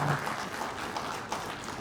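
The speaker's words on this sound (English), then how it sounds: "I think applause for this." Audience applause at a ministerial panel discussion on campus-to-career, a moderate, steady patter of clapping held at an even level throughout the short span, with no voices standing out.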